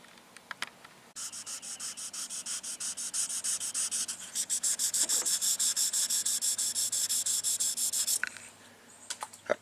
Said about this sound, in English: I'm finna try to sand this down flat as I can